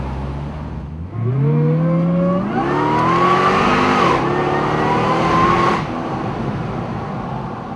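Corvette C6 V8 tuned to 650 hp, driven in sport mode: a loud, close engine rising through revs in a long climbing sweep, then dropping and climbing again before easing off, with a deep rumbling exhaust throughout.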